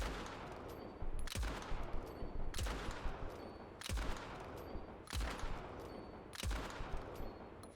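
Video-game gunfire in a game called Gley, heavy and sustained, with loud bursts striking roughly every 1.3 seconds over a dense, continuous roar of shots, close and unrelenting with no voices.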